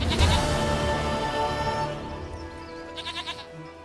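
A goat in the video game The Witcher 3 gives a loud, wavering bleat close by, followed by a couple of quicker bleats, over layered in-game music with no talk.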